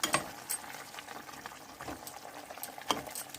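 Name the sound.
water boiling in a pot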